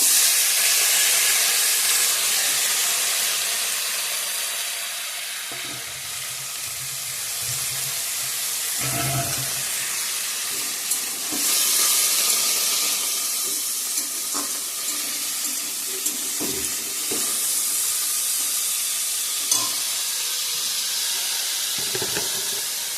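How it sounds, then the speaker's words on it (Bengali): Potatoes fry in a pan with a steady, loud sizzling hiss close by, broken now and then by soft clinks and stirring sounds, with no voices. "চলো এখন আলু ভাজাটা বসাই দিব।"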